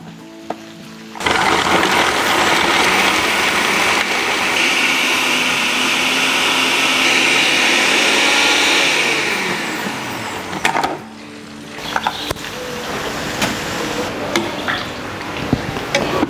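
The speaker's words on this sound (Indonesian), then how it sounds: "Lalu kita blender atau chopper." A kitchen blender grinds ingredients for rica-rica, running loud and continuous for about ten seconds before stopping, then some lighter clattering and handling noises follow.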